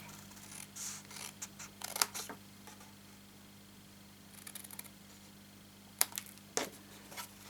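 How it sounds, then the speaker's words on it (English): Scissors or a blade cut through scored card along the outside score line, giving several brief crisp snips and scrapes spread unevenly over a quiet background with a low steady hum. "I'm going to do the outside score line up to the second score line, and then I'm going to cut it off."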